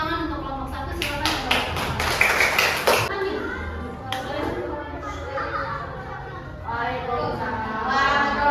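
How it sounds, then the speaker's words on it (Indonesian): Brief burst of clapping from a group in a classroom during a coding and AI training session, a few seconds of hands with children chattering and voices talking before and after. "tepuk tangan untuk kelompok 1"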